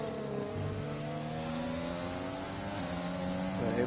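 Formula One race car engines from a racing video game drone in steady high-pitched harmonic tones, several cars close together, with pitch shifting slightly as they run side by side, continuous and fairly loud.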